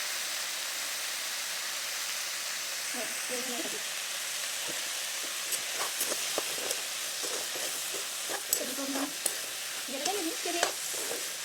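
Papaya curry with salt and turmeric being stirred in a hot pan, a steady sizzle running throughout with occasional scraping and clinks of the spoon; faint speech-like sounds appear in the middle and later.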